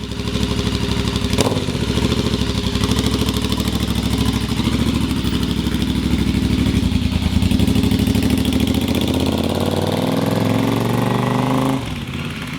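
Royal Enfield motorcycle with a $90 aftermarket muffler, its engine running steadily up close with a deep throaty exhaust note and a rhythmic thumping pulse that shifts in pitch toward the end before cutting off.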